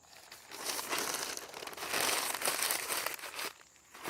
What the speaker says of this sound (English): So what I'm going to do is roll this paper up.